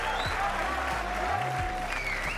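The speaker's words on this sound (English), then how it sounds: "Round of applause for Jack, please." Applause rises from the audience at a Rocket League esports playoff event, a steady wash of clapping across the hall with some crowd noise and voices beneath it.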